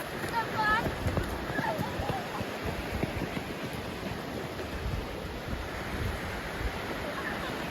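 Steady surf washes in on a northern Danish coast with gusting wind buffeting the microphone, a continuous outdoor roar with faint voices in the background.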